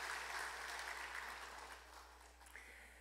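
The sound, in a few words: welcoming applause in church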